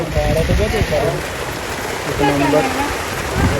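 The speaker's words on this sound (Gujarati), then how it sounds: "ફૂલ વરસાદ ચાલુ થઈ ગયો અત્યારે તો" Heavy rain pours down outdoors as a steady, close hiss of falling water, with people talking loudly over it in bursts.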